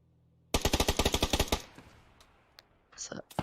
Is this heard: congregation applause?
no